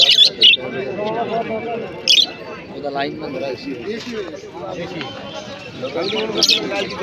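Pigeons and other caged birds at a cheap open-air bird market, with scattered squawks and chirps breaking through near and in short bursts under steady crowd chatter and people bargaining.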